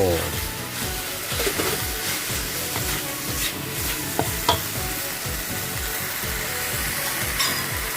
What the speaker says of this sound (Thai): ผัดกะเพราเนื้อเค็มครับ ใส่กับเผาแดง